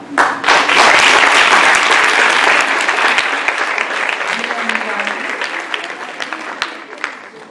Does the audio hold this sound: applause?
yes